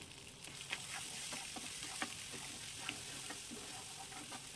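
Ground spices fry in a pan for a Malabar spinach dish with vegetables and shrimp, a steady close sizzle with light ticks and occasional stirring taps, no talking over it.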